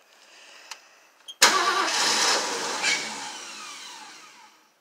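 A 1975 Ford Bronco engine starts for the first time in 30 years: two faint clicks, then a sudden crank that catches into a loud, rough roar and settles into a fading idle, close by with no talk.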